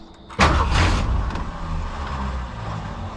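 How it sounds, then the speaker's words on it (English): A 1962 Comet's engine cranks and catches with a loud burst, then settles into a steady, close, low rumbling idle. "Let's see if it starts back up."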